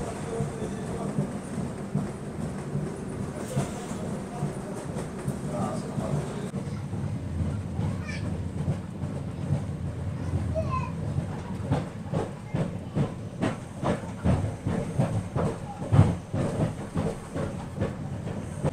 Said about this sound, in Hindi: अभी अपनी ट्रेन 131 kmph से ऊपर चल रही है